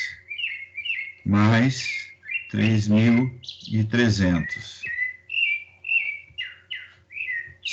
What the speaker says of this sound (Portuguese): Estão ouvindo o sabiá desesperado aí, pessoal?